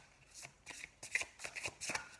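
Tarot cards are shuffled by hand in close, quiet bursts, several papery riffles and slaps falling in an irregular rhythm with short pauses between them.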